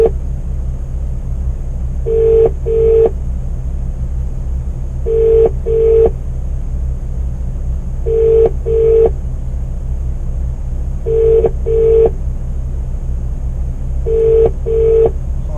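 Phone call placed from inside a truck, with a repeating ringback tone in evenly spaced double bursts about every three seconds over a low, steady engine hum, loud and near, no talk.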